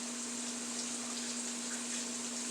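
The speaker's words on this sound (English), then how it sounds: "rinse those leaves off" Tap water running steadily over vegetable leaves being rinsed in a kitchen sink, a continuous close hissing stream with a faint tonal hum underneath.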